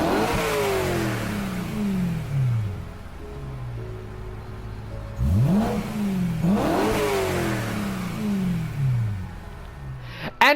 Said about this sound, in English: it's the E92 M3 from 2007